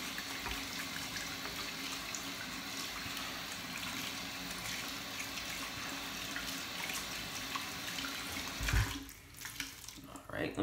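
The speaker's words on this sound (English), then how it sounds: "I rinse it out and I try to rinse all the soap out" Tap water runs steadily into a sink as a shaving brush is rinsed of soap, a continuous close splashing that breaks off briefly near the end before resuming.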